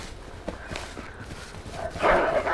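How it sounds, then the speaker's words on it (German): A dog barking in the video game H1Z1, a few short barks in quick succession over a low in-game background, followed by a louder rushing burst near the end. "Oh, da ist ein Hund."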